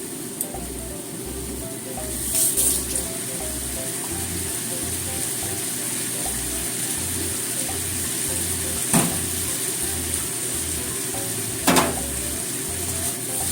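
Sweet potato kinpira stir-frying in a pan, a moderate steady sizzle with a few scraping spatula strokes and a low rhythmic hum underneath, no talk.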